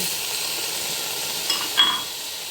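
Pork frying in a pan, a steady close sizzle and hiss with a couple of faint clinks from stirring, no talking.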